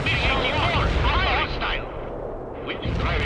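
An 84 anti-tank rocket fires in the video game World in Conflict. A heavy, loud low rumble and blast runs under steady radio-style voice chatter, then thins out briefly before the din resumes.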